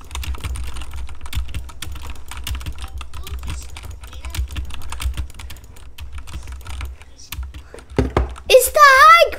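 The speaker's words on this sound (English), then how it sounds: "You hear my keyboard?" Computer keyboard clatters with rapid, steady typing throughout a Fortnite Battle Royale gaming session, close and fairly loud, with a brief burst of game sound near the end and no talking over it.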